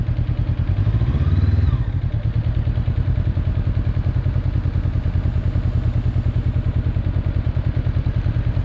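A Honda CB motorcycle rides slowly during a riding lesson, its engine chugging in a steady, even pulse close by, with a brief rattling clatter near the start and no talk.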